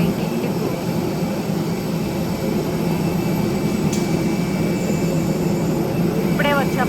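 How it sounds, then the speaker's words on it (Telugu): Aircraft engine noise at an airport on the way to a flight bound for Goa, a steady loud roar that runs throughout, with a faint chirp of other sounds near the end. "వచ్చేసాం మనం ఈ ఫ్లైట్ దగ్గరికి."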